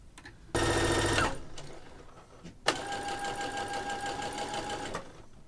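A sewing machine runs in two loud, steady bursts, about a second and then over two seconds, stitching bust and back darts on dress fabric and lining, with a short pause between runs.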